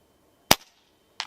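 An Air Arms S510XS Ultimate Sporter .25 air rifle fires a single sharp crack, followed by a brief decaying tail, then a faint distant clang as the JTS pellet strikes a steel target 100 yards away.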